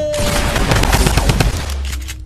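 Rapid automatic gunfire from a Fortnite match, dense bursts of shots rattling loud and close for about a second and a half before easing into a steadier hum.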